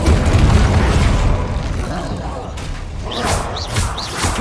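An Incendio fire spell cast in the video game Hogwarts Legacy: a loud, booming burst of flame that fills the opening second, then fades into a rumbling tail with lighter crackles and chirps of magic.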